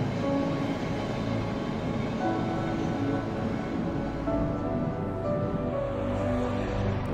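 Loud passing train in the horror video game Cry of Fear, a dense, steady rumble and rattle that fills the whole stretch without letup, with no voices.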